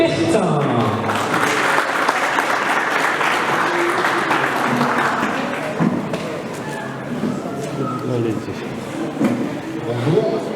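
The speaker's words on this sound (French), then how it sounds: "Je vous demande une salle d'applaudissements pour Monsieur Pierre Bertin." Applause for Pierre Bertin, director of Rivacold France, at a refrigeration equipment presentation. The clapping is loud and fairly continuous, with voices talking over it and some low thumps and room noise mixed in.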